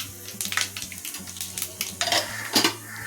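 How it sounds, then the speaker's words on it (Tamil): Mustard seeds, garlic, cumin and chana dal spluttering in hot oil for a fenugreek curry tempering, with scattered crackling pops, a steady sizzle and the clink of a stirring spoon against the pan, close by and with no talking. "பூண்டு போட்டு கடுகு பொரிஞ்சிடுது"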